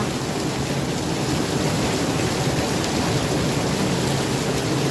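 Dense, heavy rain pouring steadily with a deep low rumble of thunder underneath, loud and continuous.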